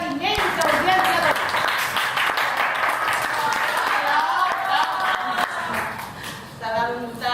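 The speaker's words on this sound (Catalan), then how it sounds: "Un part d'aplaudiment." Theatre audience applause, a dense patter of many hands clapping with a presenter speaking over it.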